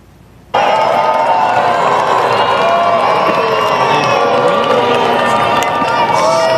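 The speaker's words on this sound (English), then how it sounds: "You can hear some booing there" A large crowd at the Duke University commencement ceremony in Wallace Wade Stadium boos in a loud, sustained roar that starts abruptly and keeps on, with many voices blending together.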